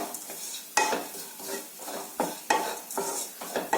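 A spatula scraping and stirring coconut roasting in a pan, with sharp, repeated strokes at an uneven rhythm over a faint sizzle, close and clear with no talking.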